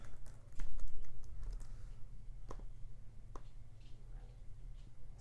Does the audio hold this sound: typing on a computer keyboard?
yes